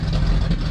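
A 1983 Chevy C10 pickup engine idles close by, a loud steady low rumble with no voices over it.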